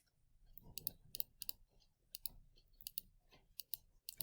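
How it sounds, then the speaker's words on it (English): Calculator buttons are pressed in short bursts of small, crisp plastic clicks with brief pauses in between, quiet and close in a classroom. "practice the actual punching of buttons"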